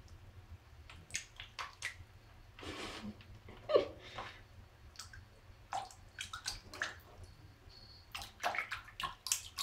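A kitten splashes in a bowl of water, making small irregular sloshes, drips and splashes. They are close and fairly quiet.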